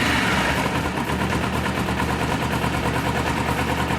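A Kawasaki engine runs steadily after starting, a rough, even mechanical rumble heard alone.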